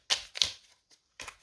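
Tarot cards shuffle in The Wizards Tarot video game as a few quick, crisp card flicks, two close together and then a third after a short pause, heard on their own.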